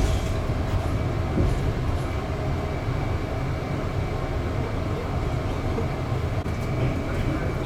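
Steady rumbling drone inside a train riding from Izu-Kogen Station in Japan, with constant low-end rolling noise and faint rattles throughout, no talking.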